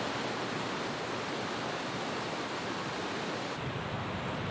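Meltwater waterfall in the Faroe Islands pouring down into the sea, a steady, dense roar of rushing water that fills the whole stretch without pause, close and even in loudness.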